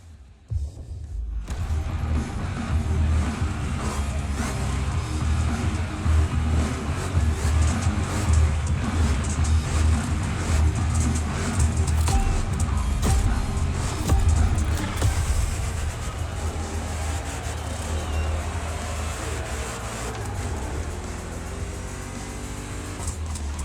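Chevrolet Camaro Big Block engine in the racing game The Crew Motorfest, a loud, continuous V8 roar with revving and shifting throughout, steady and close.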